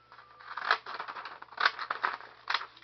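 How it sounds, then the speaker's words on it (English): Deckle-edge scissors cut across paper in a few quick, crisp snips, each a short close crunchy burst, with brief quiet gaps between them. "I'm going to take my scissor and I'm going to just cut it"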